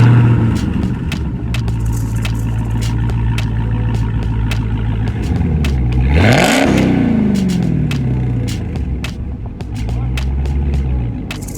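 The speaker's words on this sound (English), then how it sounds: "I got the mid muffler delete on my 2020" A 2020 wide-body car with a mid-muffler-delete exhaust idles with a steady low drone, then rises in a sharp rev that peaks and falls back, followed by a second smaller blip, loud and close.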